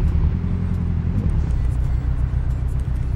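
Low, buzzing truck engine drone in Euro Truck Simulator 2, with a rough, rattling texture like a motorcycle, steady and close for a few seconds.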